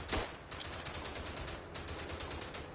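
In the WW1 game Verdun, rapid machine-gun and rifle fire rattles continuously in repeated bursts, fairly faint and unbroken with no talking.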